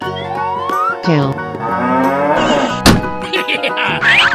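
A cartoon cow moos loudly and close in a cartoon of wild animals crossing, with music and bright synth effects running underneath.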